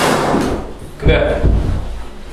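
An office door swings shut in a room under renovation, one solid thud near the microphone amid background voices.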